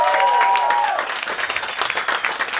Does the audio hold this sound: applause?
yes